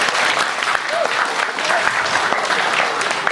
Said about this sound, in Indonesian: Tepuk tangan dulu nih.